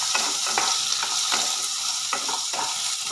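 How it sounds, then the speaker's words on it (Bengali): Pumpkin pieces are stirred and fried in a pan, a close steady sizzle broken by repeated scraping strokes of the spoon roughly every half second, with no one speaking. "আমি কুমড়োটাকে একটু নেড়ে নেবো যাতে কাঁচা গন্ধটা নষ্ট হয়ে যায়।"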